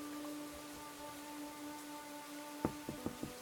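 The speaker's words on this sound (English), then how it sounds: "A window is open and it's raining outside." Rain falls outside an open window in a mystery game, a soft, quiet patter under faint sustained tones. Several sharp taps land near the end.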